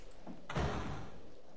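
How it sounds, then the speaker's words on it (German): A door lock snapping shut in the video game Legend of Faerghail, a single solid thud-like click followed by a short dull resonance, heard alone. "Ihr hört ein Schloss einrasten."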